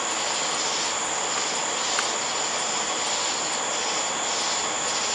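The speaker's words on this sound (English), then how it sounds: "The side dump exhaust." An old Craftsman lawn tractor, rebuilt as a lifted garden tractor, runs with a side-dump exhaust, giving a steady, loud, broadband engine roar with a high whine on top and no break in the sound.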